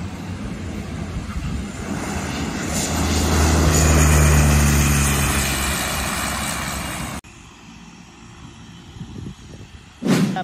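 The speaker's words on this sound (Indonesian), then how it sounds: "pesawatnya sudah mendarat" Small propeller airplane of Susi Air landing, its engine drone swelling loud and close before cutting to a quieter rumble, followed by a brief sharp noise.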